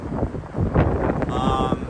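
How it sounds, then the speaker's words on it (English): Wind buffets the microphone in gusty rumbling bursts, with faint background noise and a brief tonal sound near the end. "It's very windy, y'all."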